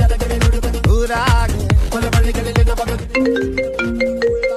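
A phone ringtone plays loud and alone: punchy rhythmic beats at first, then a bright repeating melody of electronic tones.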